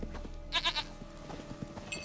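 A goat bleats in The Witcher 3: Wild Hunt, several short wavering calls close by in the middle of the clip, set over a steady game ambience with soft background tones.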